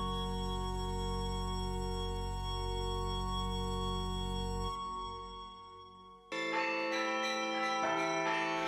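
Church carillon bells ring with long sustained tones, then fade briefly and come back with a fresh cluster of bright bell strikes.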